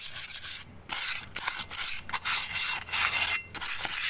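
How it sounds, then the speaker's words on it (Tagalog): Sandpaper scrubs around a car brake drum on a 1999 Lancer with rapid, uneven rasping strokes, close and fairly soft, with brief pauses between passes and no talking. "tirahin natin yung brake drum. Yan ko lang naman katapat yan, liha lang."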